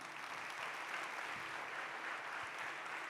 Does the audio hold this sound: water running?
no